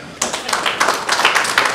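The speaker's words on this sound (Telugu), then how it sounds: "అయితే చప్పట్లు కొట్టండి" A political gathering audience claps, scattered sharp hand claps bursting in after a brief quiet and continuing in an uneven patter, fairly close and loud.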